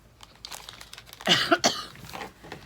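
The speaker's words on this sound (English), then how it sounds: "I don't know when I'm ever going to get over this cough" A couple of sharp, harsh coughs up close, followed by a softer throat-clearing rasp, with quiet room noise around them.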